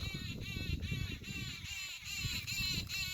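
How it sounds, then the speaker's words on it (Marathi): Birds perched in a lemon tree in a rural farm setting keep up a continuous, faint chatter of high warbling calls against quiet outdoor background noise. "येतोय का पक्ष्यांचा आवाज"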